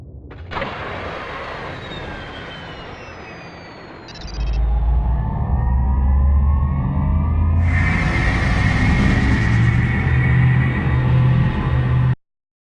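A Myrmidon space superiority fighter engaging its subspace drive in Freespace 2, a rising, swelling engine roar that builds into a loud sustained rumble with a bright whooshing hiss before cutting off abruptly.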